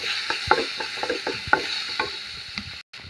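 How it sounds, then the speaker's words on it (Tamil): Tomatoes sautéing in a pan for a spicy Tamil kara chutney, with soft sizzling under repeated sharp spoon scrapes and stirs against the pan at an irregular pace, close and moderately loud, ending in a brief silence. "இப்போ தக்காளி நல்லா வதக்கிக்கலாம்"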